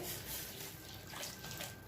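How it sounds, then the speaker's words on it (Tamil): Boiling water poured from a vessel into frying masala for egg curry, a close, continuous rushing splash and sizzle that holds steady for the full two seconds with no talk. "அந்த தண்ணியை நல்லா கொதிக்க வச்சு இதில் ஊற்றுறேன்"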